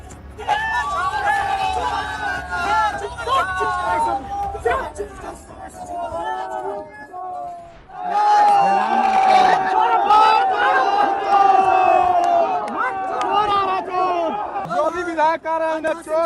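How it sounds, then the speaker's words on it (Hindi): A large crowd of protesting students near the Jharkhand assembly building in India shouts and chants outdoors, loud and close, with overlapping voices, rhythmic slogan cries and a brief lull midway before the shouting surges again. "तो ये भीड़ है झारखंड के विधानसभा भवन परिसर के पास।"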